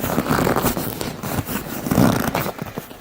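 Foam seat cushion being worked and peeled out of a BMW E90-series seat frame: close, continuous scraping and rubbing with rough tearing textures, swelling in a couple of longer pulls.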